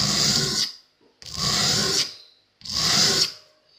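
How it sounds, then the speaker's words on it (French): Bimetal broadhead hunting arrow blade being drawn across a sharpening stone, three long, even rasping strokes separated by short pauses, close and clear with no talk. "on sent bien comment la lame et l'acier accrochent sur la pierre"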